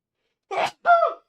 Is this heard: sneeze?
yes